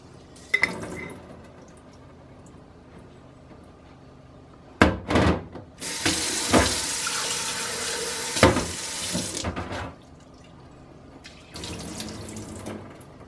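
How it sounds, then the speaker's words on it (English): Hot tap water runs into a sink in bursts as seeds are rinsed in a fine mesh sieve, with a loud steady stream for several seconds between shorter splashes and quiet gaps. "And I just rinse them out. And I use my hot water because my hot water is treated in this sink."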